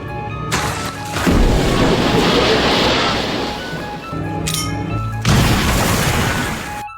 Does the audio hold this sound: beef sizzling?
no